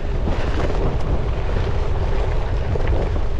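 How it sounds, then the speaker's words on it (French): A strong headwind in an open field buffets the microphone of a gravel bike rider, a loud, continuous low roar with no voices. "en plein champ, vent de face."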